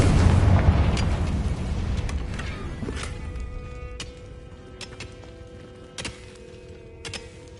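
A spell-cast explosion from the Confringo charm bursts loudly at the start, then a broad rumbling roar decays over several seconds, with a few sharp crackling pops scattered afterward.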